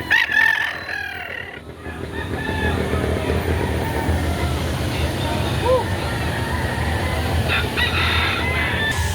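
Rooster crowing among chickens offered for sale at a Saturday poultry market in Lipa City, Batangas, loud and close over a busy crowd murmur, with talk in the background.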